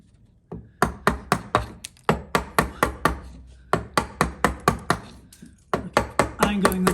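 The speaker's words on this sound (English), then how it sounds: "Take my bevel edge chisel and my mallet, using it the correct way around." A bevel edge chisel struck with a mallet into wood: a steady series of sharp, close wooden knocks in quick rhythmic runs, separated by brief pauses.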